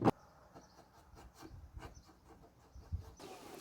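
Painted metal shore power inlet plate being sanded along its edges during a van build, giving faint, soft rasping strokes in an irregular rhythm with a couple of sharper scuffs.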